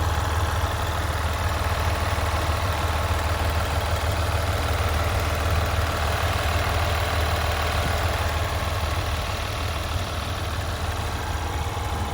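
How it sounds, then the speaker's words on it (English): A 2020 Ram 1500 Limited EcoDiesel engine idles with the hood open, a steady low hum carrying a faint diesel clatter. It stays quiet and even, with no voices. "Just has that little bit of clattering so that you still know it's a diesel"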